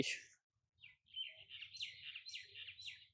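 Small birds feeding in the jujube trees of an organic farm give a quick run of high, thin chirps and twitters. The calls are faint and seem somewhat distant, with a low background murmur and no clear speech.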